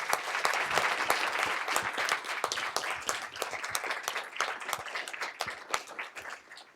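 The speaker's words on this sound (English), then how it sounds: "So let's give them a round of applause" Sustained applause from an audience at a Board of Education meeting, dense steady clapping from many hands that fills the room, then thins slightly toward the end with no voices over it.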